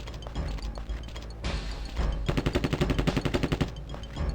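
M16 gunfire in the video game Terminator Future Shock: scattered single shots, then a rapid, loud automatic burst of evenly spaced reports lasting over a second, followed by another shot.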